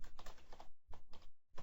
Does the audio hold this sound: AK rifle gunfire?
no